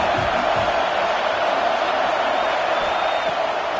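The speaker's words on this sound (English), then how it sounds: "The Tide crowd rolling noise down on the Saban field on third down." A stadium crowd roars at an Alabama Crimson Tide college football game against TCU on third down, a loud, steady wash of massed voices that holds level throughout with no break.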